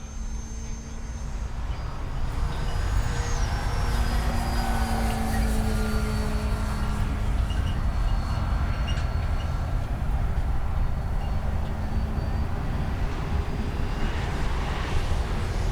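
An FMS Rafale 80mm electric ducted-fan RC jet whooshes in on its landing approach, a broad steady roar that swells and holds, heard outdoors over an airfield with some wind.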